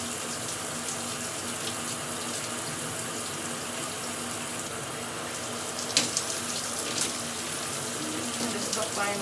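Water runs steadily over natural hair during a final rinse, a close, continuous hiss and spatter with a few brief knocks near the end.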